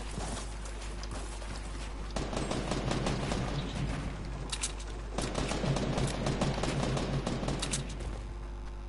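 Rapid bursts of gunfire from a Fortnite Battle Royale squad match, fired at an enemy player as clustered volleys with short gaps between them, loud and close, with no talking.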